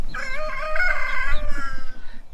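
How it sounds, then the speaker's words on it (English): A blue laced Wyandotte rooster crows once up close, a loud drawn-out cock-a-doodle-doo lasting over a second before trailing off into quieter background noise. "That's a pretty blue laced Wyandotte rooster right there."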